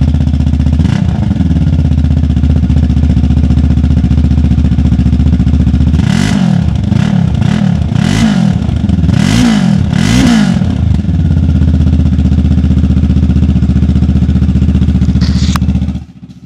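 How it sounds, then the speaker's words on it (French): A motorcycle fitted with a JV windscreen idles close by in neutral, a loud steady thrum interrupted midway by several quick throttle blips that rise and fall before it settles back to idle and cuts off. "je vais te faire un petit bruit de la moto"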